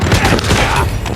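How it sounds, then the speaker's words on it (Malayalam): Rapid gunfire from a 3v4 multiplayer video game battle, a dense, loud burst of overlapping shots with booming low end that runs through the whole moment with no pauses. "ആ വെടി ശബ്ദം"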